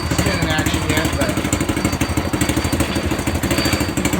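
A Reaper MiniTrike engine runs close by with exhaust leaks, a loud, rapid, rough pulsing idle with chattering beats throughout.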